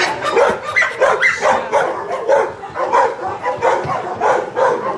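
Many dogs bark at once in a large hall lined with rows of dogs, a loud, busy chorus of overlapping barks and yips pulsing steadily throughout.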